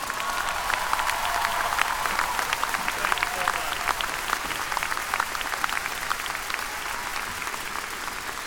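A large audience at an undergraduate commencement applauds continuously, a dense wash of clapping that holds steady for several seconds with no pause.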